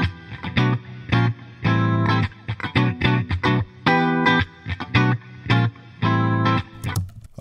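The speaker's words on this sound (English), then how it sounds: "You can also easily control the perceived width of the reverb effect." A harmonic tone played in short stabs and sustained bursts, washed in reverb that leaves a lingering tail after each note.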